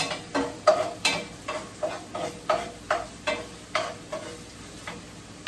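Green vegetables for chicken fried rice are stir-fried in a pan, with a regular series of sharp scraping tosses, about ten in all. A steady sizzle runs under them at close range, and nobody talks.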